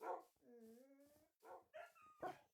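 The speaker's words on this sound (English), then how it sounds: "Having 8 dogs following you around definitely makes for an awesome pack." Pack of eight tamed dogs in the Minecraft video game, giving drawn-out rising whines and whimpers broken up by a few short yips and barks, close and clear with no talking.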